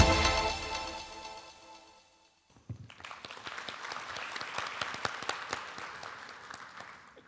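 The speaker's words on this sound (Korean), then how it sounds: "여러분 유승일 CTO를 큰 박수로 환영해 주십시오." Audience applause at a mobility technology conference keynote, welcoming the company's chief technology officer to the stage; steady clapping of moderate loudness follows a fading music sting after a short pause.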